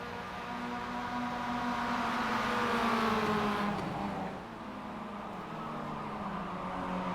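Several Mazda MX-5 race cars in the MX-5 Challenge at Okayama's short circuit drone through a corner, engine notes rising and falling as they pass, then easing off before revving again, moderately distant and steady.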